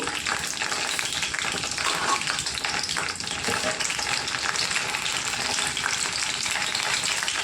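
Chana dal fries in hot oil with a loud, continuous close sizzle and occasional stirring scrapes throughout, with no talking.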